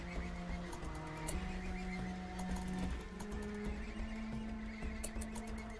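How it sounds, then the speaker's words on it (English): A horse whinnies in the colony-building video game RimWorld, with faint hoof clip-clops over a steady, sustained tonal backdrop, no voices. "So there's one horse stuck out here"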